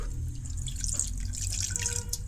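Water poured into a pan of melting jaggery while making mango pickle, a steady close trickling and splashing that runs continuously for a couple of seconds over a low background rumble.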